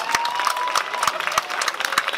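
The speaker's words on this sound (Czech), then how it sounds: "Ten potlesk je fantasticky polosferický." Audience applause at a slam poetry evening in a pub, a steady dense patter of claps with some crowd noise, close and fairly loud, continuing throughout without speech.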